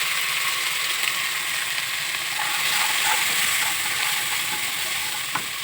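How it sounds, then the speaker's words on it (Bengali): Spice paste with salt and turmeric frying in a kadai for a taro curry, giving a steady close sizzle throughout with faint scraping stirs and no talk. "কড়াইতে মশলা আমার ভাজা ভাজা হয়ে গেছে।"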